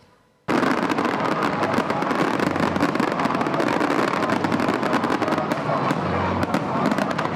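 Dense fireworks display bursting over Abidjan at the New Year, a continuous barrage of loud cracks and booms layered into a roaring wash, with faint crowd noise underneath throughout.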